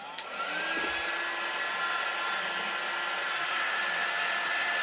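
A hair dryer blows steadily to dry chalk paint for a craft project, a loud continuous close whoosh with a brief click at the start and no talk over it.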